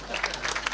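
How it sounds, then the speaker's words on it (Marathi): A seated kirtan audience in Tanang breaks into brief, steady applause, many hands clapping together in a close, continuous patter. "तुमच्याबद्दलच तुम्ही टाळी वाजवा."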